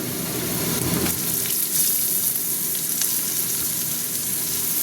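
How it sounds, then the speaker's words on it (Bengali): Potatoes and brinjal fry in a pan, giving a dense, continuous sizzle close by, loud and even throughout with faint stirring scrapes underneath. "দেখো, আলু ভাজা ভাজা হয়ে গেছে, আমি বেগুনগুলো দিয়ে দিচ্ছি।"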